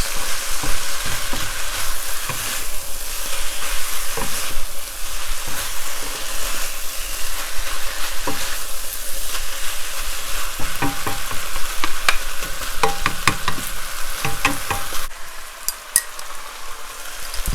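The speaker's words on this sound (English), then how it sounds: "Mix these noodles in." Kimchi fried noodles tossed and stirred in a hot pan, a steady close sizzle broken by repeated scraping and clattering strokes, with a brief quieter moment near the end and no talking.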